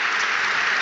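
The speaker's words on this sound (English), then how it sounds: "The Everton substitutes are applauded as they're running up and down the line." Football crowd at Everton versus Arsenal in the Premier League applauds the Everton substitutes warming up along the line: a brief, steady wash of clapping from a large stadium audience, heard alone.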